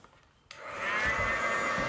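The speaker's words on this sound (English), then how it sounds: "But of course, we've got heat guns. So what you would do now is I'll dry this" A heat gun kicks on with a click and whooshes steadily, drying watercolour on a card with a constant close blowing roar.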